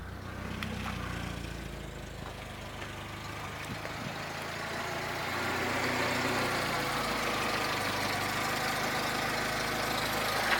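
A petrol VW Golf 3 engine with an overheating problem idles unevenly, a continuous low rumble heard up close that swells slightly partway through.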